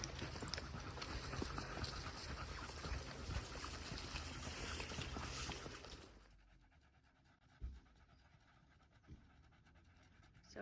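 Dogs pant after a 5-kilometre walk in 28-degree heat, heavy rapid breathing up close; the loud rushing noise drops away partway through, leaving quieter panting with a few soft bumps.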